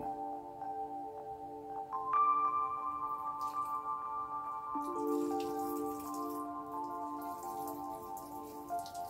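Thin stream of water trickling over a car window during a rinse-and-wipe cleaning, a soft continuous patter running under steady tonal music for the whole stretch.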